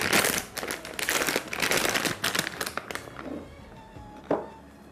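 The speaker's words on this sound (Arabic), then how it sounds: "لما استخدم كيس الحلواني في البشاميل انا كده بضمن انه شكل الكنافة يبقى جميل" Plastic piping bag filled with béchamel sauce squeezed over knafeh, a steady close crinkling and rustling of plastic for about three seconds, then a few softer crinkles and a final sharper crackle.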